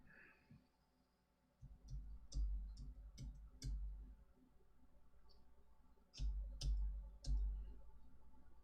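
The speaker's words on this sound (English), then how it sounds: "I am typing. It doesn't do anything." Computer keyboard typing in short bursts of sharp clicks, with a cluster of keystrokes early, a pause, then another quick burst, fairly close and alone.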